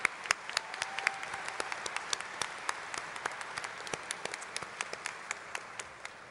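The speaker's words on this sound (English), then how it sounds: "Graduates, please give your teachers and staff a round of applause." Audience at a high school graduation ceremony clapping for teachers and staff, steady sustained applause with sharp individual claps standing out, fairly distant in a large space, no talking.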